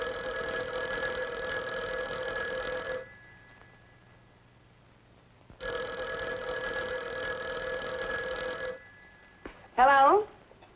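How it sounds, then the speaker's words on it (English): An old-fashioned telephone bell rings in two long bursts of about three seconds each, separated by a pause, loud and close; a voice answers right after the second ring. "Why, no, our phone is working perfectly. Can't you hear it ring?"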